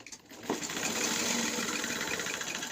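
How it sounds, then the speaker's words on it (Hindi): A sewing machine stitches a shirt's coat-style collar, running in one steady continuous whir after a brief start, close and fairly loud. "अब हमने यहाँ से इसकी स्टिचिंग को शुरू कर देना।"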